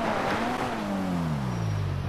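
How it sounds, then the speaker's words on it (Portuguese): A car's tires squeal in GTA V, a continuous screech with a falling pitch over steady engine drone for about two seconds, close and fairly loud, with no talking. "Ó, como que esse carro tá cantando pneu"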